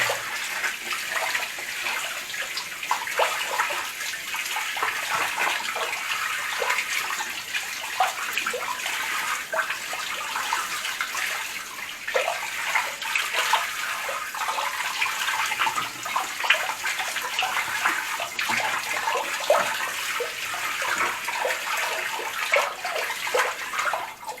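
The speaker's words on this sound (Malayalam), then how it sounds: "ഇത് വെള്ളത്തിൽ ഒന്ന് അതിൻ്റെ പേസ്റ്റ് എല്ലാം പോകുന്ന വിധത്തിൽ ഒന്ന് കഴുകണം" Water runs continuously from a tap as a helmet visor is rinsed clean of paste, a steady close splashing stream with small fluctuations throughout.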